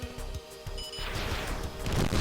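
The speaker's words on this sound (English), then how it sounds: "Explosions! That was really cool." Explosions go off in the aerial combat video game Sky Rogue as several quiet, muffled bursts layered over constant engine and game noise, with a broader rumbling crash building near the end.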